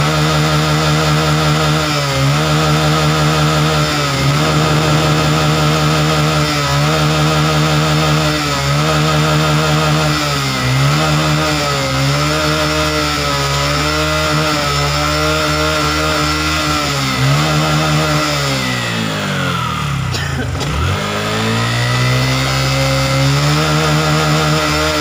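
A Honda Supra 125 FI motorcycle engine with a faulty charging system hums loudly and steadily near by, then swings through a quick rev rise and fall before settling again.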